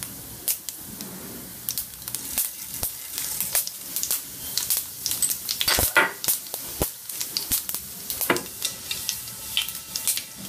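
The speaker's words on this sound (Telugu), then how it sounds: "ఆయిల్ బాగా హీట్ అయినప్పుడు త్వరగా ఫ్రై అయిపోతాయి" Urad dal and cumin seeds fry in hot oil, giving a soft steady sizzle broken by sharp scattered crackles and pops, fairly quiet and close, with no talking.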